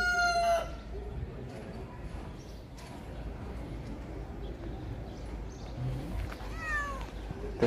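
A rooster crows at the start, and later a kitten mews a few times, set against a busy market murmur with faint voices in the background, at Souk Touta in Tetouan, Morocco.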